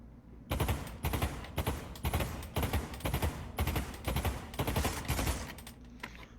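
A carbine-length AR-15/M16-style rifle fires in the VR game Pavlov, rapid loud shots in repeated bursts of several rounds each with brief gaps between them, close and dominant.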